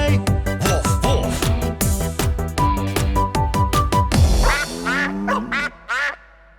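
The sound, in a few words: duck quacking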